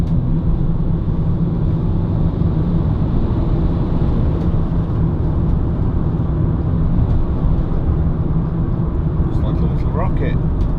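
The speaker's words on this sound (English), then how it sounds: "Just take a quick drive up the motorway as well." Peugeot Partner 1.6 HDi Professional diesel van cruising on a motorway, a steady loud drone of engine, tyre and road noise heard from inside the cab, unbroken for the whole stretch, with a few faint clicks near the end.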